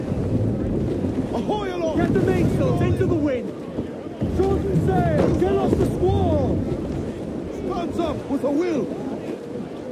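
A sailing ship pushes through a strong squall in Assassin's Creed IV Black Flag. Heavy wind roars steadily under water and hull noise while crew voices shout orders over it.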